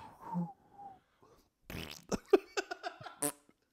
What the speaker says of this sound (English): Now we're farting on the podcast.